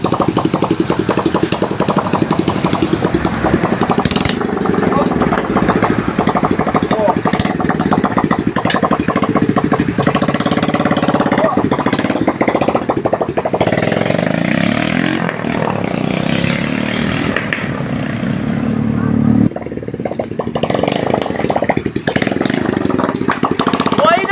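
Engine of a Motorstar motorcycle salvaged from a junkshop, lowered, running steadily with a loud continuous rumble and clatter for the whole stretch, with people talking faintly underneath.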